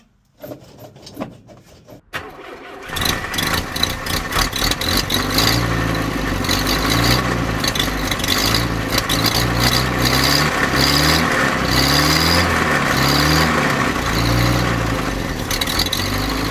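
Car engine cranking briefly and catching after a mechanical fuel pump and new hard fuel line are fitted, then settling into a steady, close, rumbling idle with a clattering rhythm.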